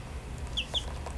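A small hen with black feet and a black beak, kept indoors in a bathroom, gives two brief, soft clucks close by over a quiet room hum.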